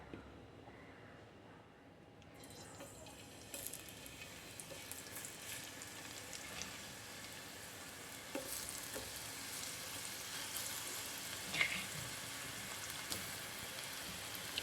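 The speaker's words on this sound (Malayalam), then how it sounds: "ഇനി നമുക്ക് ചെമ്മീൻ ഇട്ട് കൊടുക്കാം" Prawns frying in hot coconut oil in a pan give a steady, dense sizzle that swells after the first couple of seconds and carries on evenly, with a few sharper crackles and spatters near the pan.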